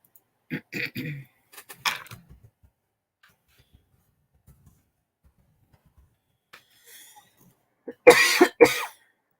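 Repeated coughing fits close by: a cluster of coughs, a long quiet stretch with small sounds, then another loud burst of coughs.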